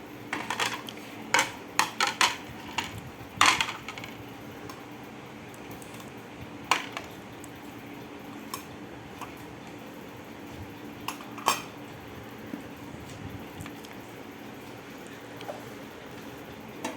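Ceramic plates, small and large, are handled and set down, giving several sharp clinks and clatters clustered early, then sparser knocks over quiet room tone.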